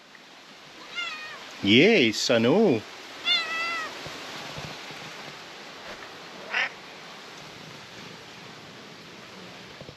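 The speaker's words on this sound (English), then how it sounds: "we found the cats" Cats meow a few times close by, a pair of rising, warbling cries standing out over low background noise, with a person speaking briefly nearby.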